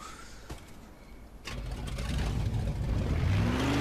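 A car in the video game Mafia 2 starts up and accelerates, its engine drone and whir building steadily louder, with a rising tonal whine toward the end.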